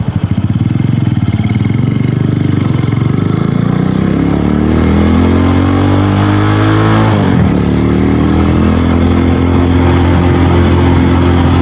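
A Venom X22R motorcycle fitted with new sprockets revs hard through the gears while being ridden. The loud, close engine climbs steadily in pitch, drops sharply at a shift and then pulls again with a continuous buzzing drone.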